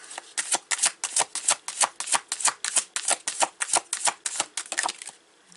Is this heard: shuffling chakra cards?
yes